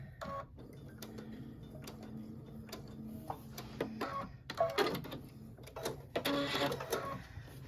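A sewing machine sews off through a corner of a quilted snow globe wall hanging, giving short, irregular runs of light ticking and clattering stitches, close and fairly quiet, with small handling noises between.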